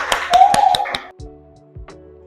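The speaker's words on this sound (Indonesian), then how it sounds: "Tepuk tangan untuk kelompok" A few sharp claps from a classroom group of students ring out in a quick cluster, loud and close, then stop and leave a quiet room with faint low hum.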